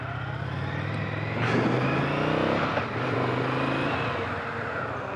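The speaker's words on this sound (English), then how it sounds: "I'm basically giving this bike everything it's got." A 2019 Indian FTR 1200S motorcycle is ridden flat out in track mode, its engine roaring steadily and rising in pitch through the gears, close and loud and with no speech.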